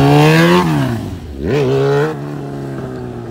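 A car engine revs hard after first gear engages, a loud close whine that drops, then climbs again in a second surge before settling to a lower steady drone.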